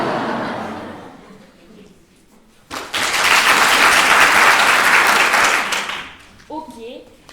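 A school audience at a staged show bursts into loud, dense applause and cheering after a countdown, lasting a few seconds before dying away, with speech and some laughter around it.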